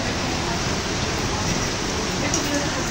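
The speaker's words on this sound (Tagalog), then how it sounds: "ang lakas ng ulan" Heavy rain pours in a dense, loud, unbroken hiss outdoors in Pasig, steady throughout with no pauses.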